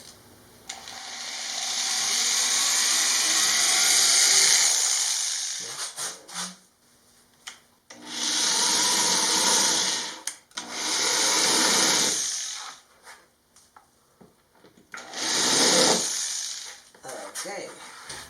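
A drill bores holes down from the top through the base of a DIY separating toilet. There are three long, loud bursts of drilling, each a few seconds, separated by quieter pauses.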